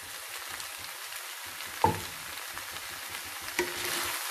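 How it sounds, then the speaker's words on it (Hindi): Noodles and vegetables frying in a pan, a steady close sizzle with occasional stirring clinks, no voices. "हम नूडल्स और वेजिटेबल्स को 2 मिनट के लिए अच्छे से फ्राई करेंगे।"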